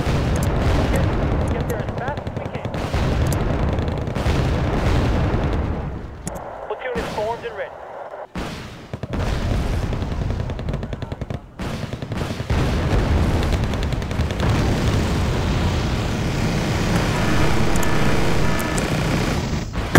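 Wargame Red Dragon battle in a Busan pocket campaign, with dense gunfire, booming explosions and artillery in rapid bursts, loud and continuous apart from a brief lull, with someone speaking intermittently over it.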